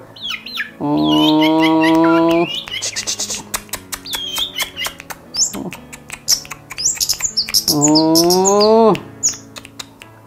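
A tame long-tailed shrike perched on a hand sings loudly and close, mixing long harsh squawking notes with rapid chirps, twitters and clicks in varied bursts.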